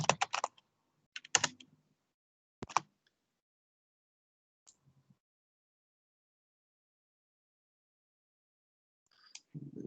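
Someone types a login name and password on a computer keyboard, giving a few short bursts of close key clicks separated by long silent pauses.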